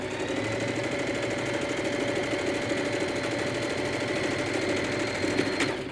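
A sewing machine hums continuously at steady speed, stitching fabric for a sewing bag, with a fast, even mechanical chatter close up.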